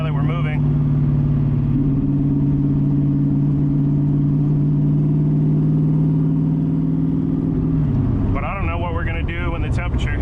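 A Ford Ranger fitted with a 331 engine cruises along with a loud, steady engine drone whose pitch shifts slightly partway through, while a voice talks briefly at the start and end.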